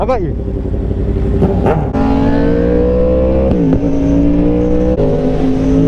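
An Audi RS6 engine revs hard and close, its rising harmonic whine climbing in steady pulls with brief drops between bursts, loud and continuous throughout.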